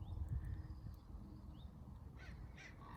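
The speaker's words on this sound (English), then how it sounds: "Do you hear the crows in the background?" Two distant crow caws ring out over a low rumbling outdoor background, faint and spaced about half a second apart.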